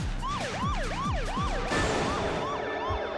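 Police car sirens chase through Burnout 2: Point of Impact, a fast rising-and-falling wail repeating several times, loud and close over engine roar, with a second siren pattern joining partway through.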